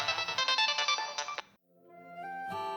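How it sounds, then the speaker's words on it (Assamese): Phone ringtone for an incoming call, loud and close: a bright repeating melodic tune that breaks off briefly, then starts again alone with no talk. "ছাৰে ফোন কৰিছে তাৰমানে এইজনী আকৌ ফোন উঠোৱা নাই"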